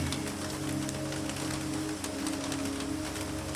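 Steady rain patters on surfaces around a rooftop greenhouse, a dense continuous hiss with faint scattered drips and a low hum underneath, with no voices.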